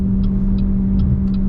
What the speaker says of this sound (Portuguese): ligou o motor a combustão, a gente percebe ele gritar bastante ali.